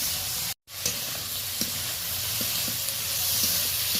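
Shrimp stir-frying in a pan with onion and green chili, a steady close sizzle with soft scraping stirs, briefly cutting out near the start.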